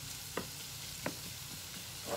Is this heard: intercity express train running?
no